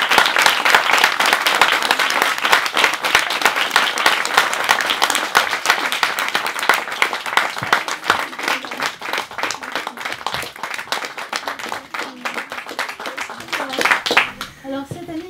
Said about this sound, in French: merci beaucoup pour vos applaudissements